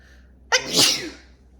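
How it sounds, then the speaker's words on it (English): A single loud, close sneeze bursts out sharply and trails off quickly, with a quiet room around it and no talking. "I gotta sneeze"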